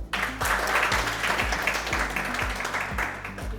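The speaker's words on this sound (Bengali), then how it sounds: "ইয়ামাহার জন্য একটা জোরে হাততালি" An audience applauds for Yamaha at a motorcycle sales event, a dense, steady patter of many hands clapping together, loud and continuous over a repeating low rhythmic music beat.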